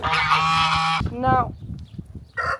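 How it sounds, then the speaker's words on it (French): A big turkey calls loudly with a harsh honking gobble for about a second, followed by a shorter call and another burst near the end, with faint background sounds between. "regardez, c'est le gros dindon"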